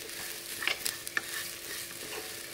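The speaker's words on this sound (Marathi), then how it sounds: "छान तुपावर गहू भाजले की पटकन शिजले जातात" Khapli wheat roasting in ghee while being stirred, a steady soft sizzle with a few light scraping clicks, close and fairly quiet with no voices.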